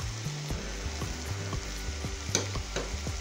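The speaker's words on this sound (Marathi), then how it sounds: "ही चटणी आता ह्यात टाकून घेतलेली आहे आणि ही पण अगदी छान भाजून घेऊया" Onion, garlic and masala chutney is roasted in a pan, giving a steady close sizzle of frying broken by a regular series of scraping stirs from a spatula, without any voices.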